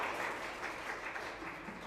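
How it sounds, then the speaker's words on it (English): Steady applause from a panel forum audience, a dense continuous patter of many hands clapping at moderate volume for the full two seconds with no voices over it. "I will ask a round of applause"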